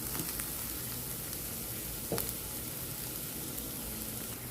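Two pieces of ginger, sliced onion and chopped garlic sizzle in a hot pan, a steady close frying hiss with a brief stir or clatter partway through.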